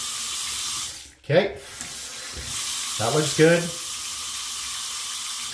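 Water runs from a freshly repaired Delta kitchen faucet, a steady close hiss that continues throughout, with a short break as a person speaks briefly over the flow.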